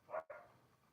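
A single dog bark, a quick double burst with a brief gap, fairly faint and heard alone indoors.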